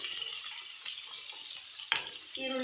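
Onions with green chillies fry lightly in a pan for veg momo filling, giving a steady soft sizzle with a brief scrape of the spatula near the end.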